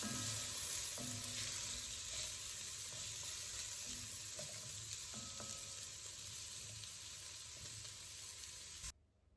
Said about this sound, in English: Next, soften onions and carrots.